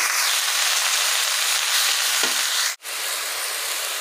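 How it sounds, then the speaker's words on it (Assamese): Garden greens sizzle steadily in hot oil with onion and green chili, a constant bright frying hiss that cuts out for an instant before resuming. "তেলতে অকণমান পিঁয়াজ আৰু কেঁচা জলকীয়া দি বাৰীৰ পৰা তুলি অনা এই পাচলিখিনি এতিয়া ভাজিম"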